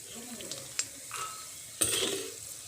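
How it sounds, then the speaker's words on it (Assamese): Curry leaves and raw green chillies hit hot oil in a wok for Assamese muri masala. Light stirring and scraping come first, then a sudden loud sizzle that keeps hissing steadily nearby, with no talk. "এতিয়া মই নৰসিংহ পাতখিনি ভাজি লম আৰু ইয়াৰ লগতে মই এই কেঁচা জলকীয়া কেইটাও ভাজি লম।"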